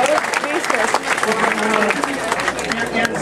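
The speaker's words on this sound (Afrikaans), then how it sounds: "Kom ons geef hulle lekker handen klap, baie dankie." At a game auction in Vaalwater, the crowd applauds with a continuous wash of clapping while people talk and murmur over it.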